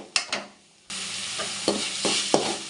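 Onions sautéing with salt in a pan, a quiet stir and a few taps, then a loud steady sizzle with repeated stirring scrapes close by.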